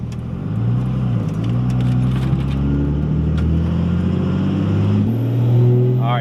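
Car with a 150HP tune accelerates past 2,000 RPM, engine drone rising steadily in pitch, heard from inside the cabin with a low constant rumble throughout.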